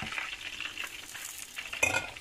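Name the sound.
pork and beef meatballs browning in a pan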